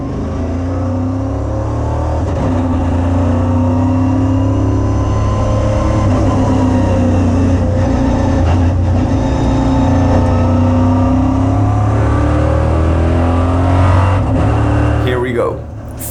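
EuroNASCAR stock cars circling the Valencia circuit during qualifying, a steady loud roar of engines with droning harmonics from start to finish, rising and falling slightly as the cars run in traffic.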